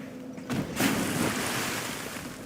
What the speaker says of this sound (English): That guy splashes like he went into a pool.